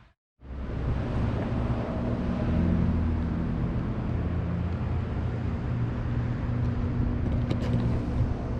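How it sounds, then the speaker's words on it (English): Steady road traffic noise, a continuous low rumble of passing vehicles at a moderate distance, with no talking. "you can hear the road traffic here"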